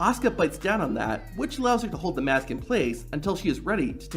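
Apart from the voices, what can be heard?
None of the usual background noises is heard.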